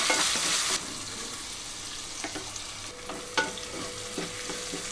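Chopped tomatoes and turmeric frying in a pan, with a loud hiss as they go in, then a steady sizzle and occasional scraping stirs, close by with no talking.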